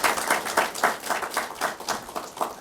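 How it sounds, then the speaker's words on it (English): A small group claps in a short burst of applause, steady and moderately close, with no voices. "A round of applause for them."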